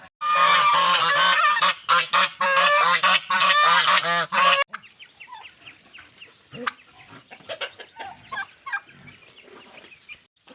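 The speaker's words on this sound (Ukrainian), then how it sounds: "зараз сонечко на них, гуси кричать ось так" Loud, dense honking from a flock of geese fills the first few seconds, then gives way to quieter scattered cackles and background farmyard noise.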